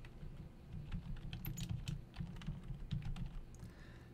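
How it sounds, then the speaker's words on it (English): Fingers type a full name on a computer keyboard into a Microsoft Word document, giving a steady run of close, quick key clicks and taps with no talking. "But I'm going to type my full name."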